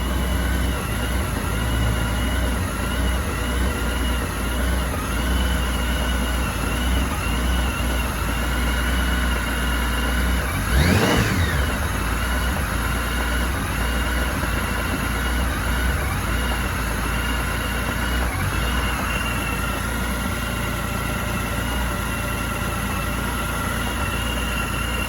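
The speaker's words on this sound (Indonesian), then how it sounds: "Ada masalah stasionernya naik turun" A Honda Goldwing 1800 motorcycle engine idling steadily and loud up close, its idle rising and falling unevenly, with one brief swell in revs partway through.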